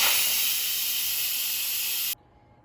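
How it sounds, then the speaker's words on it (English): An Instant Pot vents steam on quick release, giving a loud, steady, close hiss for about two seconds before it cuts off abruptly into near silence. "so let's quick release the steam."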